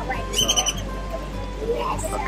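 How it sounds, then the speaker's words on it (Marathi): Birds chirp and tweet at the flamingo habitat of a Las Vegas resort, a few short bright calls over a steady background hum, with people talking nearby. "पक्ष्यांचे आवाज वगैरे पण सुंदर येत आहे"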